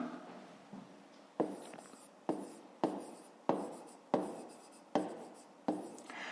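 A pen writes on paper during a fifth-grade math exercise, with quiet scratching strokes broken by eight sharp taps at a steady pace, close and alone with no talk.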